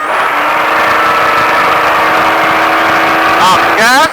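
A Baja truck engine roars loud and close at speed, holding a steady high drone before surging and wavering in pitch as it accelerates near the end.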